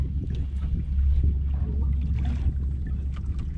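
Low, steady rumbling of a heavily overloaded fishing boat carrying fish as it moves on water, with wind buffeting the microphone throughout.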